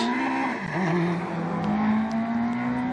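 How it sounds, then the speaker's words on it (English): An LPG-fuelled Renault Clio rally car drives on a forest stage, its engine held at a high, steady strained note with a brief dip and recovery as it passes close by. "here's Alistair Hutchinson and St John Dykes in the LPG Renault Clio, leading its class"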